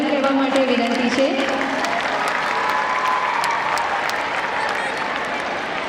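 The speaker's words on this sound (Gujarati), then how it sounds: "આ ડોક્યુમેન્ટરી નિહાળીને સૌને તાળીઓના ગળગળાટથી અમારા મંડળને વધાર કહેવા માટે વિનંતી છે." Audience in a Gujarati community event hall breaks into sustained applause after a documentary screening, a dense, steady wash of clapping from many hands that continues at even loudness throughout.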